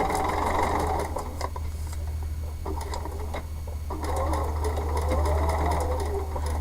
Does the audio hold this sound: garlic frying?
no